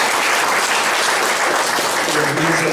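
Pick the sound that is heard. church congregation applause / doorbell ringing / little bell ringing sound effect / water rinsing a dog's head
church congregation applause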